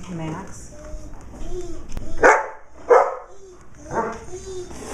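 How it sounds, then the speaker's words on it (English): A dog barks a few times at close range, with sharp separate barks mixed in with a voice speaking. "That's my dog barking"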